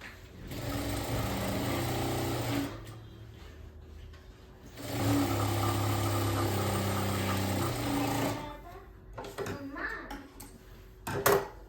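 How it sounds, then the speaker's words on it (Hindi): A sewing machine stitches the inner seam of a lined blouse in two long runs of steady whirring, separated by quieter stretches of handling the fabric. "अंदर की सिलाई लगा रही हूँ।"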